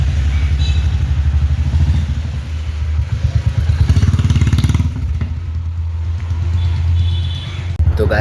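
A Royal Enfield Bullet motorcycle engine thumps close by in a steady, low, rapid chug that swells louder midway as the bike moves off, with light mechanical clatter and no voices.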